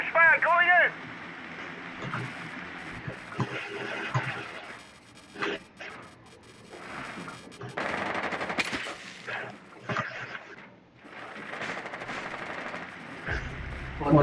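Automatic gunfire in the video game Rainbow Six Siege, loud rapid bursts with shots and impacts scattered through a busy match mix, and voices speaking over the action.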